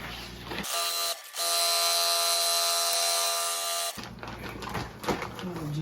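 Sewing machine stitching a seam across a feed bag, a steady whirring motor hum that runs for about three seconds with a brief dip near the start, with faint handling and talk before and after.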